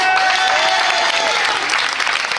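A television studio audience at a Christmas special applauds, a loud, dense burst of clapping that carries on unbroken for a couple of seconds.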